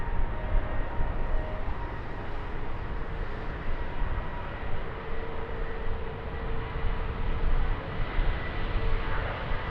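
A heavy jet airliner taking off at Lisbon Airport: a continuous, broad roaring rumble, steady and fairly loud for the whole stretch with no voices.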